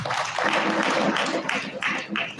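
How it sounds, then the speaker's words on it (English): Applause from the audience at a bust unveiling ceremony for an emeritus professor at A.B.U. Zaria, honouring Architect Salisu Abubakar; dense, steady clapping fills the whole stretch at close range, with a few sharper claps near the end. "round of applause for him."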